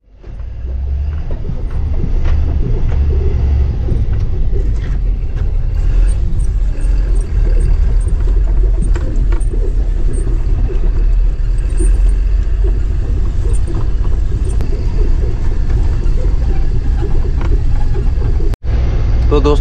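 Heavy dumper truck engine turning around at a dumping yard, a loud continuous rumbling drone with rattling, close and steady throughout, ending with a brief dropout near the end.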